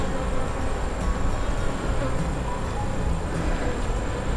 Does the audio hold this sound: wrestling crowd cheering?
no